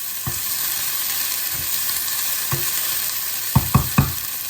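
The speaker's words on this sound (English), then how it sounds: "So now that it's hot, we're going to add the chopped onion. We'll give it a mix." Chopped onion and garlic sizzle steadily in a hot pan, with a few low knocks of a spoon stirring them, the last three in quick succession.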